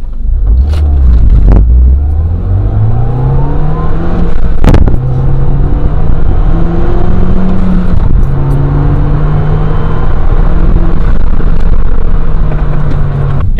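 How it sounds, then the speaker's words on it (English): A Mini Cooper fitted with a cold air intake accelerates hard from 0 to 60, its engine note rising loudly through the gears with brief dips at each shift, heard close from inside the car with windows closed. "just the turbo whining sound is a little louder"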